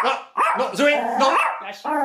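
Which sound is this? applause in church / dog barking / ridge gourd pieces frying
dog barking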